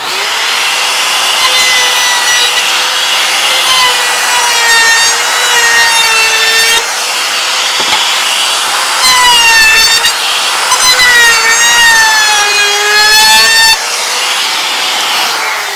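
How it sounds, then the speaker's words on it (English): A router cutting a wooden bookshelf bracket, a loud continuous high-pitched whine with a steady motor tone that shifts slightly in pitch as the bit moves through the wood. "What I'm going to do now is route it with a router before I really smooth it up"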